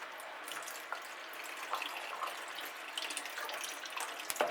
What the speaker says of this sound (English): And I'll just water this one.